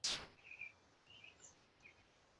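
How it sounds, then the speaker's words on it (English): Faint, scattered bird chirps in trees in a quiet outdoor setting, a few short calls spread across the moment after a brief sharp noise at the start. "it's the sounds of birds in the trees"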